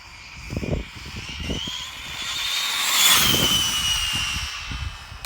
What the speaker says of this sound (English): It keeps on hitting limp mode when I try to give it full throttle.